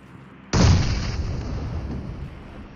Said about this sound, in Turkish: Şöyle bomba bırakacağım.